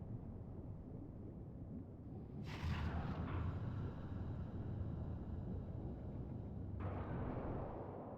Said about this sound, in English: Ah, so that's the cause about the giant explosion.